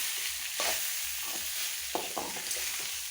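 Cooked rice stirred into fried black-pepper seasoning in a hot pan: a bright, steady frying hiss with several quick, near spatula scrapes spaced through it.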